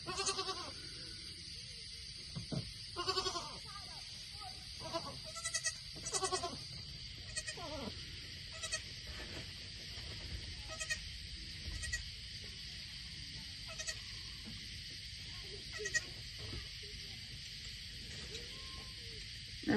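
Dolly, a silver goat, gives several short bleats scattered through a steady outdoor background, fairly faint and a little distant, with no talking over them.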